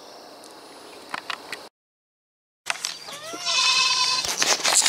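A goat on a farm bleats in short nasal calls, faint at first, then a louder, wavering bleat after a short gap, close by and with no talking.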